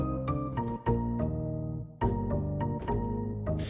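Arturia Pigments 3 sampled-piano synth notes play in short chordal phrases through a filter envelope, each attack bright then quickly mellowing as the tone darkens and sustains.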